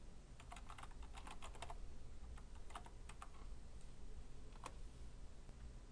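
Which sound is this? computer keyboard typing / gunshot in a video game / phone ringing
computer keyboard typing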